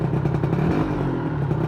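A Yamaha NMax scooter engine revs under throttle, close and loud, with a rough, clattery mid-pitched drone pulsing through repeated bursts of acceleration.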